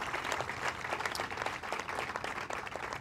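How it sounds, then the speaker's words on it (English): A crowd applauds a transit director at the groundbreaking for the LYNX Blue Line Extension. The clapping is steady and moderately loud for the full stretch, with a faint murmur of voices mixed in. "Y'all need to give her another round of applause"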